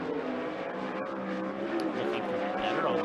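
A 360 sprint car roars through a qualifying lap at Skagit Speedway, its engine a loud, continuous, steady howl that swells slightly toward the end, with faint talk underneath.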